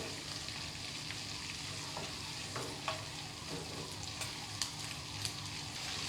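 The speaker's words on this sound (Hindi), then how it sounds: "फ्लेम को हाई रखिए और चिकन को अच्छी तरह से हमें इसके साथ फ्राई कर लेना है" Chicken frying on a high flame with garlic and chilli, a soft continuous sizzle with occasional scraping clicks of stirring, fairly quiet and without talk.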